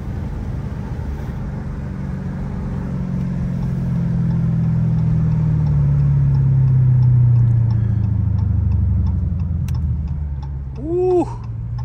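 A 500 hp Dodge Scat Pack V8 accelerates through traffic with a deep engine drone that rises and swells steadily, then a short burst of higher revving near the end.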